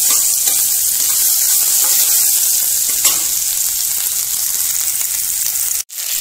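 Crushed garlic, seven medium cloves, frying in hot oil for a Bengali kochur loti dish: a steady, loud, close sizzle with light stirring scrapes, running continuously without talk before a brief drop near the end.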